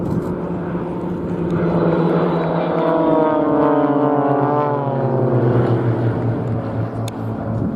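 Blades Aerobatic Team aircraft flying past at an air show give a loud, continuous propeller engine drone whose pitch sweeps downward as they pass close by, with no one talking over it.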